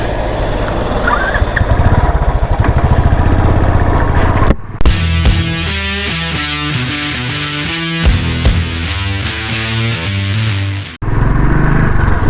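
Royal Enfield Continental GT 650 twin-cylinder motorcycle engine, first idling with a loud, throbbing exhaust, then revving through a series of rising and falling throttle blips while riding off, close and loud with no voices.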